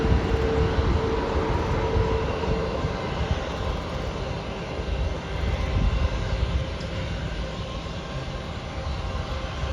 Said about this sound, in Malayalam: ഒരു ശ്രീലങ്കൻ എയർലൈൻസ് വിമാനം ഇവിടെ നിന്ന് ടേക്ക് ഓഫ് ചെയ്യാൻ പോവാണ്.